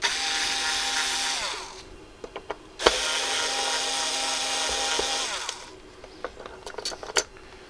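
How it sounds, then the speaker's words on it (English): Screws driven out of a Technics 1210 turntable with a power driver, two long whirring bursts separated by small clicks and taps, close up, followed by light rattling handling sounds, with no talk. "Take our screws out again."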